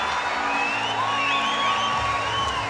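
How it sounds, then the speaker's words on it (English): Whistles ring out from a tennis crowd at a night exhibition match, several thin rising and falling tones layered over a steady murmur and cheering of the stands. "a couple of whistles in the crowd"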